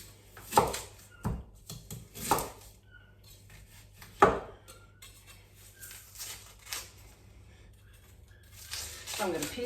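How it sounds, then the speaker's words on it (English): An onion being chopped on a board, a few sharp knife strikes spaced apart over a quiet kitchen hum with faint clatter, close and moderately loud. "I'm gonna peel the onion and I'm gonna chop it"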